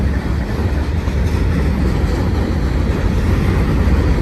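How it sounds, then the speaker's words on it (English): A Union Pacific manifest freight train moving fast through Cajon Pass at the old depot site, a loud continuous low rumble and roar of rolling cars close by, steady for the whole stretch. "This train's moving pretty good."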